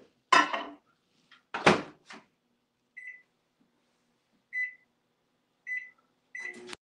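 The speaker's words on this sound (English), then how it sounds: "microwave" A microwave oven melting butter: loud clunks of the door and buttons, then a short series of clear electronic beeps spaced a second or so apart, close and distinct in a quiet kitchen.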